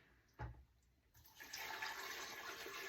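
Water from a container is poured into a blender over chopped ginger: a soft, steady splashing that starts after a moment of near silence and continues faintly.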